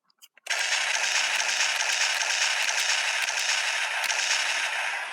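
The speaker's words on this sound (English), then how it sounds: "makes the blaster sound effect" Gokai Gun toy blaster from Kaizoku Sentai Gokaiger fires a loud electronic blaster sound effect after a few quick clicks, a sustained bright hissing burst from a small speaker holding for several seconds.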